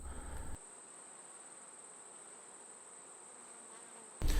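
Honey bees at monastery hives hum in a faint, steady drone that holds evenly throughout, bracketed by brief louder bumps at the start and end.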